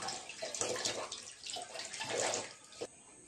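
Tap water runs steadily into a sink while fish are washed, a close, continuous splashing rush with a few brief louder surges and a sudden drop near the end.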